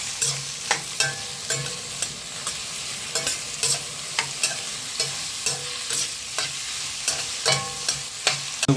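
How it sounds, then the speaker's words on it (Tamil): Onions for masala stirred in a frying pan, a spatula scraping and knocking at a steady, repeated rhythm over a constant close sizzle, with no talk. "இப்போ கிண்டி விட்டுக்குவோம் நல்லா."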